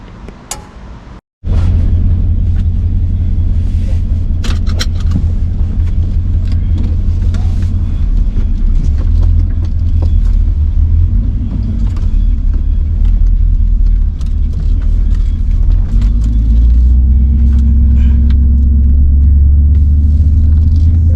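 A BMW E38 740i L V8 runs with a deep, steady engine and exhaust rumble that swells louder partway through, close and continuous after a brief drop at the start, with no talk over it.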